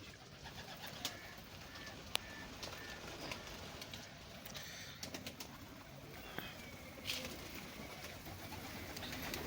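Pigeons in a loft holding a hundred or more birds coo softly and steadily, with occasional sharp clicks and faint wing flaps against a low, continuous background.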